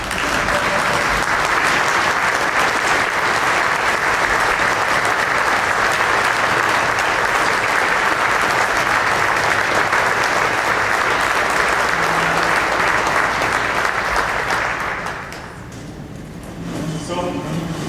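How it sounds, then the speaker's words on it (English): A standing audience gives a long, loud round of applause at a Salute Week event. Dense clapping holds steady for about fifteen seconds, dips briefly, then picks up again with voices mixed in. "I would like for everybody to please stand and give a round of applause to Ms. T.C. Freeman."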